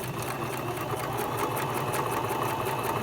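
A sewing machine back-stitches a zipper, running steadily up close with a fast, even mechanical chatter and hum for the whole few seconds, no talking over it.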